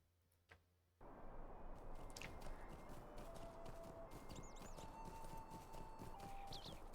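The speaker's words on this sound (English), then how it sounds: "we might as well just ride our horse" Horse hooves clip-clop at a steady riding pace in the Lord of the Rings Online video game, beginning abruptly after a quiet second and continuing evenly, with faint chirps overhead.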